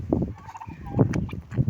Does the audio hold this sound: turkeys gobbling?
yes